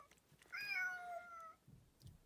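A cat meows once in a clear, drawn-out, close call lasting about a second, with quiet room noise and faint thumps around it.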